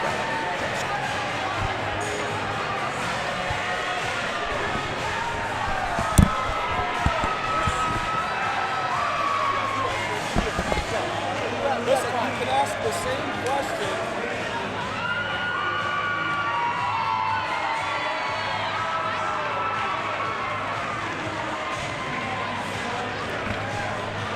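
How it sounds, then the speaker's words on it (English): Cheering and shouting crowd fills a gym during a high school boys basketball championship game between Auburn and Freeman, a loud continuous roar with whoops, occasional ball bounces and sneaker noise beneath. "We gave you some of the crowd noise there in the background"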